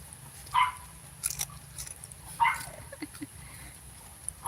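A dog eats crunchy food close by, with irregular crisp crunches and bites separated by brief pauses, and faint soft sounds in between.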